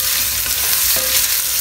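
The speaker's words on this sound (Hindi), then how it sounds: "इसको हल्का सा फ्राई किया हमने" Ginger paste and chopped green chili sizzle steadily in hot oil for a chicken corn soup, with a continuous close frying hiss and soft stirring scrapes throughout.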